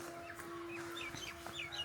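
Soft, scattered clucking of chickens at a distance over a steady low hum, quiet and intermittent.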